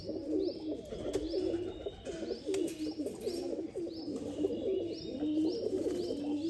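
Pigeons coo in a busy flock, overlapping low rolling calls repeating throughout with a few faint chirps on top, fairly close and steady.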